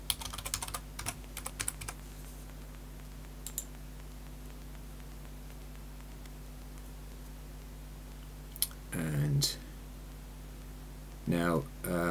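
Typing on a computer keyboard during Minecraft 1.12.1 setup on a Raspberry Pi 3: rapid clicky keystrokes in bursts over the first few seconds, then sparse taps, with two short spoken interruptions later.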